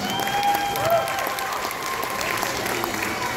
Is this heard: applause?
yes